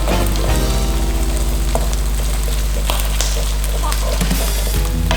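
Fermented sour pork and scrambled eggs stir frying in a pan for Thai cooking, with a steady loud sizzle and scattered stirring clatter throughout, and a voice speaking faintly underneath.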